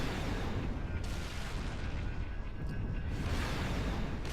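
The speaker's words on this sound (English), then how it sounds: "forward plasma cannon fire from the Ghost" Plasma cannon fire from a Ghost vehicle in Halo: Reach, a sustained roaring barrage of bursts with a few sharper hits, moderately loud and continuous.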